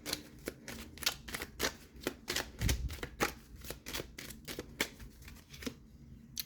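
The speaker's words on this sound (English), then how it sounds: "Now let me pull some of these cards" Tarot cards are shuffled and pulled, making a close series of quick crisp riffling slaps and flicks in an uneven rhythm, with no speech.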